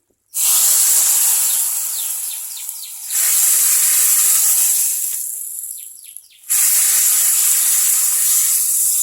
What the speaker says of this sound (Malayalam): ഇതിലേക്ക് നമുക്ക് അല്പം എണ്ണ തളിച്ചൊഴിക്കാം